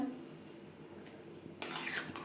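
Bottle gourd and moong dal stirred in a cooking pot, quiet scrapes and clinks of a spoon against metal, then a louder scraping rustle near the end.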